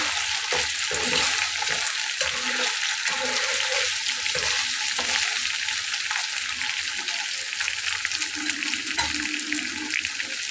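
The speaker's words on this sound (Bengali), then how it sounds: "আর একটু ভেজে আমি তুলে নেব এমনিতে মাছগুলো শক্তই আছে" Gule fish fry in hot oil in a pan with a loud, steady, dense sizzle that runs throughout, with occasional soft clanks of a utensil underneath.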